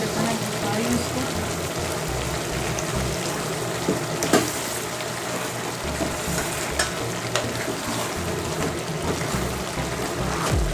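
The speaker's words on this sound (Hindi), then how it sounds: "दाल को अच्छी तरह से मसाले में फ्राई करना है।" Lentils (lobia) frying in spices in a pot, giving a continuous dense sizzle with occasional stirring clinks, close and steady with no voices.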